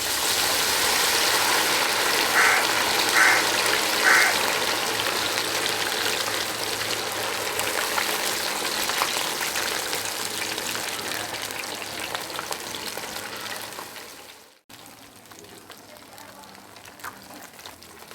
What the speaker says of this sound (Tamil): எண்ணெய் சூடானோடனே இட்லி எல்லாம் பொரிச்சு எடுத்துக்கலாம்.